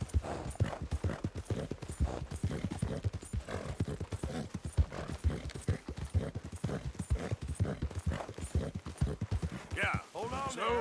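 Horse hooves clip-clop in a steady, rapid rhythm in the video game Red Dead Redemption 2 as the horse moves along, with voices occasionally heard alongside the hoofbeats.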